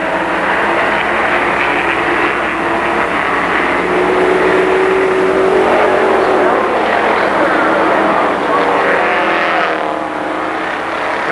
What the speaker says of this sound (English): Beginner stock coming at you next. Green flag, and we are racing.